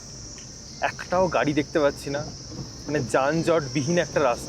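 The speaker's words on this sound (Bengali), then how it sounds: "ঝিঝি পোকার ডাক শুনতে পাওয়া যাচ্ছে দিনের বেলাতেই" Crickets shrill in daytime forest along a narrow off-road route near Chibo in Kalimpong, North Bengal, making a steady high-pitched drone that never breaks while someone talks over it in the foreground.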